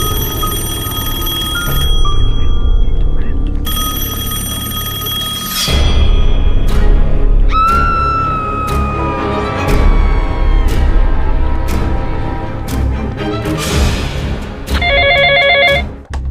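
An old-style telephone bell rings in long bursts with pauses between, loud and close, followed by clicks, clatter and a short electronic beeping.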